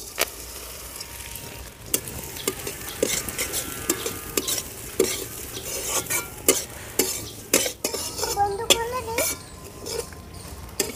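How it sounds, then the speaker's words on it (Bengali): Flattened rice (chire) is fried and stirred in a pan at home, with continuous crackling sizzle, frequent sharp scrapes and clinks of a spatula against metal, and a voice speaking briefly underneath. "এবারে আমি বাকিগুলো ভেজে নেব।"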